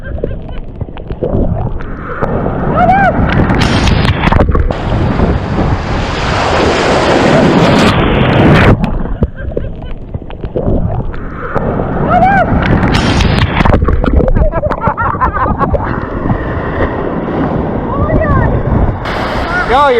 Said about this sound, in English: Those waves are huge.